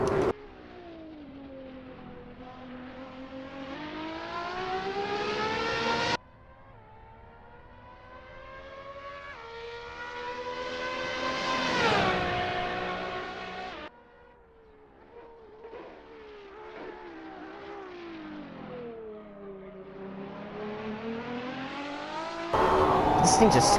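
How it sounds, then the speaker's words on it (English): A high-pitched Ferrari LaFerrari V12 racing engine in Assetto Corsa revs up and down in long sweeping pitch arcs, loud and close, with abrupt cuts between passes. "And the V12 sound is just, there's nothing like it."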